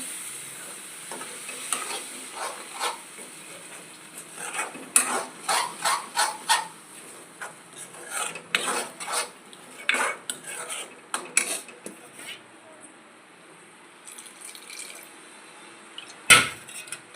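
Spinach paneer gravy stirred in a pan as spinach water goes in, with a spoon scraping the pan in quick repeated strokes over a soft sizzle and a sharp metallic clank near the end.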